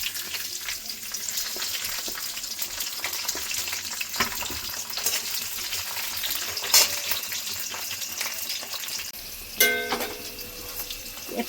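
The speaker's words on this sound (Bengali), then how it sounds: "ক্যাপসিকামগুলো ভেজে নেব।" Capsicum pieces fry in hot oil with a steady, close crackling sizzle throughout, broken by a couple of light utensil clinks.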